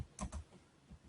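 A few quick keystrokes on a computer keyboard, two close clicks near the start and a softer one later, quiet and isolated against faint room noise.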